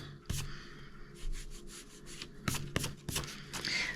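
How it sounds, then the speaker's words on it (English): An eraser works over a coloured pencil line on an adult colouring book page, producing short, soft scrubbing bursts in quick irregular clusters, close and fairly quiet, with small taps between strokes. "So this means that I will just erase this line here,"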